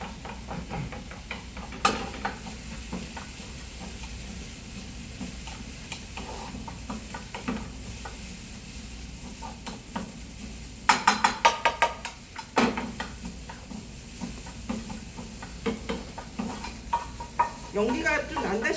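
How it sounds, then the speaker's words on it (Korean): Ingredients are stir-fried in a dry frying pan with no oil or butter, a faint crackle under scraping and stirring, with louder bursts of clattering pan and utensil contact toward the end. "볶아주시는 거예요."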